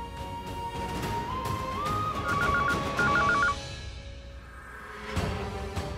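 A telephone keypad being dialled in a Hindi TV serial scene: two quick bursts of electronic dialling beeps, clear and close over a background music bed.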